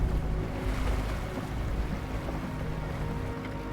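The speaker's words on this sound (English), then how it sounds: "these vehicles are supposed to float, but with the rising waters, I'm not sure if this is quite the time to find out." A vehicle crossing a flooded river in Kamchatka sloshes through rushing water in a continuous, loud churning wash mixed with wind buffeting and a low engine rumble, with no speech.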